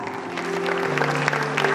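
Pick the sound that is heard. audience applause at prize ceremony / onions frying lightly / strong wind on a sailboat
audience applause at prize ceremony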